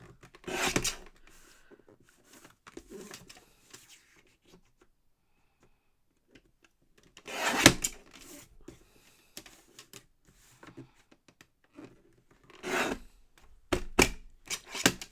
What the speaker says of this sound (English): And I'm going to trim around all of that other excess.